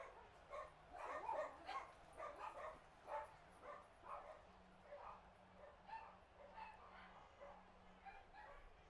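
Dogs bark and yip in a run of repeated short barks, fairly close and at moderate volume, with some whimpering between them.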